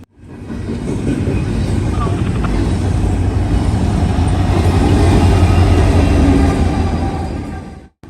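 A Norfolk Southern freight train rolls past in central Ohio, with an SD70M-2 locomotive working as a mid-train DPU, a loud steady rumble and rail clatter that swells and fades over several seconds.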